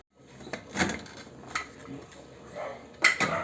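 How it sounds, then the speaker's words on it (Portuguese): A pressure cooker pot being opened after cooking pork ribs, metallic clanks and scrapes of the lid and pot in a few separate bursts, with a sharp clatter near the end. "Agora nós vamos abrir a panela."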